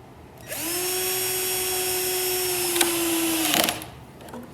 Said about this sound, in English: I'm going to put a screw in up front